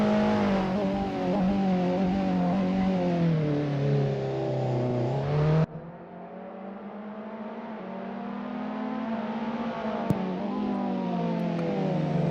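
A touring car in a racing video game screams at high revs, then the pitch drops as it brakes hard into a corner. A second loud engine note builds afterward, with a sharp tick near the end.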